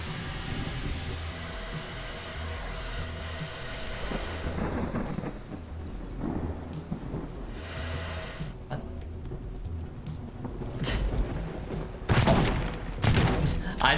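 Gunshots in the destruction game Teardown, fired at a burning house, with rumbling blasts building into loud, dense bursts of fire near the end over a steady roaring background.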